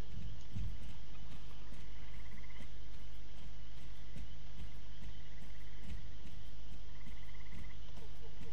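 Horse hooves in Star Stable, a steady clip-clop of footfalls under a constant outdoor ambience with insect-like chirping, moderately close and continuous.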